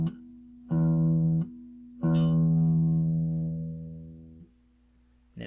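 A guitar is finger-picked slowly, with four fingers planted and the thumb plucking and a fingernail setting the attack: a few single even plucks that ring out and decay, close and clear with no talking.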